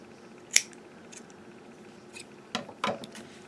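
Three quick scissor snips through yarn, one crisp cut followed by two closer together a couple of seconds later, fairly quiet against a soft background hush.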